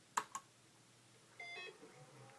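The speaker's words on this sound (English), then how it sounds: "Classic NEC beep when it turns on." An NEC NP-V260 DLP projector gives two quick, faint startup beeps as it powers on, followed by a soft whirring hum.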